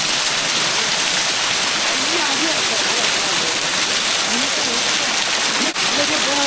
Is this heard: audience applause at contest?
no